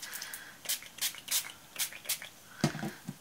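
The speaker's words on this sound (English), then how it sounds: "you can put your stencil on top of your page and spray directly" Short hissing bursts of spray paint hit a stencil laid on an art journal page, about eight quick puffs in an uneven rhythm, close and fairly quiet, followed by a soft clunk near the end.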